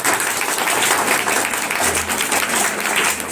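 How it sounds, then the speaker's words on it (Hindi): A church congregation claps loudly and steadily at a Sunday service, a dense wash of applause that continues for several seconds. "सभी जोर से तालियां बजाएंगे।"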